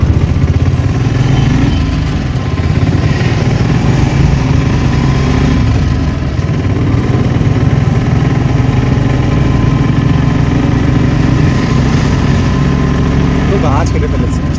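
Heavy motor traffic on a narrow village road in Howrah, a constant loud rumble of engines and idling vehicles close by with no breaks, a horn-like tone near the end.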